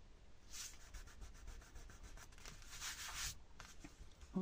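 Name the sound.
rubbing out pencil marks with an eraser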